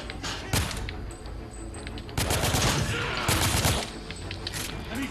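Machine gun fire from The Order: 1886 rattles in dense, rapid bursts, loud and close, with heavier stretches of continuous firing and thuds mixed into a busy game soundscape.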